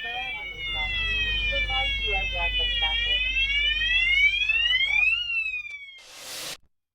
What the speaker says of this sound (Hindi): उस समय इसमें फायर अलार्म बजा